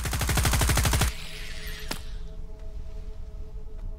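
Rapid automatic gunfire in the shooter Stalker 2: Heart of Chornobyl, a loud burst of about a second of fast repeated shots, then a single distant crack against a quieter humming background.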